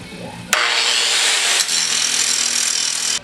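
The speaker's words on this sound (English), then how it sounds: "I'm just going to keep turning it, grinding the collar off." An angle grinder cuts a collar off a steel digging bar in a blacksmith shop: a loud, continuous harsh grinding roar that starts abruptly, dips briefly, then runs on steadily before stopping sharply, close by.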